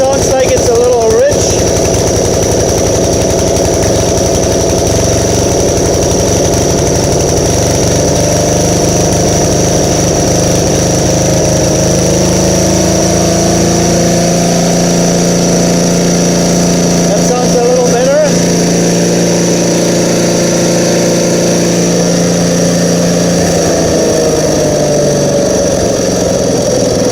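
A Craftsman wood chipper's small carbureted engine, running a little rich, runs steadily close by for the whole stretch with some uneven variation in its tone, while people talk over it.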